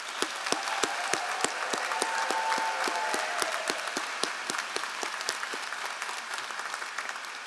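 Carnegie Mellon Tepper School MBA class of 2026 applauds at its commencement ceremony, a broad, sustained round of clapping from a large crowd with a few sharper individual claps standing out.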